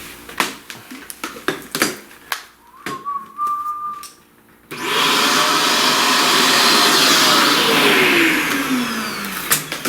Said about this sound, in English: So let's vacuum this mess up.